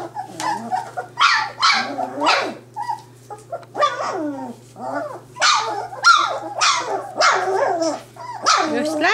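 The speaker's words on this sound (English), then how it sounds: "Messy puppies." Three-week-old puppies in a litter that is starting to eat bark, yip and whimper in close, busy bursts, with a steady low hum underneath.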